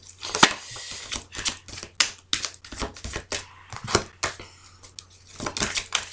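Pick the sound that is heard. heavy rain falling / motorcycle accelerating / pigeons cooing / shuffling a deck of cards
shuffling a deck of cards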